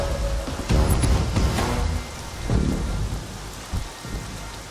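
Steady rain pours down with low rumbling swells, loud and continuous with no voices.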